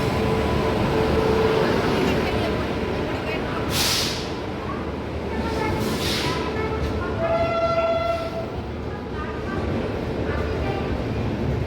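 A passenger train pulls into an Indian railway station, its rumble filling the platform while the horn sounds in a couple of blasts midway, with faint crowd voices beneath.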